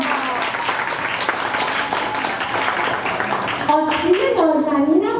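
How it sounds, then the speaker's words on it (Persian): Audience applause at a festival, steady dense clapping through most of the stretch, with a voice, apparently a child's, rising over it toward the end. "تشویق بفرمایید"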